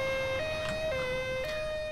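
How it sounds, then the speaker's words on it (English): London Ambulance Service ambulance siren in the GTA 5 video game, a loud two-tone wail alternating steadily between high and low notes, sounding close and continuous with no talking. "Yeah, there's the ambulance. So the ambulance, London Ambulance Service, is on its way."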